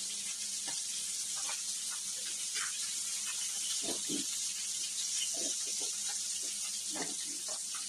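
Stinging catfish sizzle steadily in hot oil in a pan, a continuous broadband hiss with scattered spits and pops, and a few soft clinks and scrapes as the pieces are flipped.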